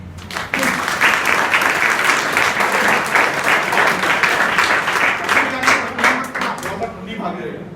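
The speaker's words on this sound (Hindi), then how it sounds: "तो ताली को बजा दो।" Audience applause fills a school hall during an adolescence education programme at an inter college, steady dense clapping lasting several seconds close to the listener, with voices mixed in.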